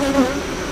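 A brief, close buzz of honey bees at a hive made of two boxes.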